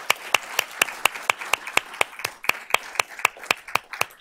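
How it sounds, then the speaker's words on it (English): Scattered applause at a school board of trustees meeting, a small audience clapping in distinct, fairly regular sharp claps that ring out individually rather than blending into a roar. "Let's give her a round of applause."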